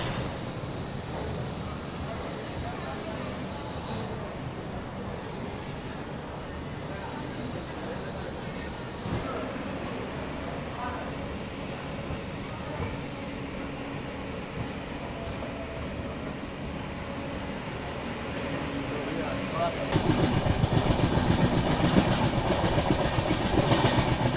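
Poorvottar Sampark Kranti Express, running from Howrah toward Kalka, rolls along with a steady loud rumble and rhythmic clickety-clack of wheels on rail joints, growing louder and harsher near the end.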